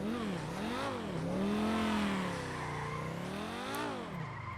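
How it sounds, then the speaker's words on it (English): Lamborghini V10 engine in the FiveM game revving up and down in several swelling waves, pitch rising and falling smoothly, loud and steady throughout with no talking. "this is what the current engine sound sounds like."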